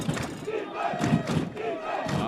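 Home crowd at a Peddie School versus Seton Hall Prep high school football game, a steady roar of many voices with swelling shouts and cheers, loud and continuous throughout.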